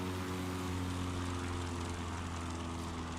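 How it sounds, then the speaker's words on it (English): A Piper Cub engine drones loud and steady at full power during takeoff in Microsoft Flight Simulator at an eSTOL competition, a continuous propeller buzz with no voices. "You can hear the nitrous of that Cubs engine just throwing it into the sky."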